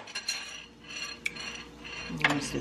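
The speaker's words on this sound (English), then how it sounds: "And then I take a spoon." A spoon taps and clinks against a dish in a kitchen, a few faint, sparse metallic clicks with a brighter clink near the end.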